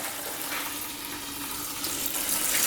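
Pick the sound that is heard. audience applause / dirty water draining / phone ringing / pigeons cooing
dirty water draining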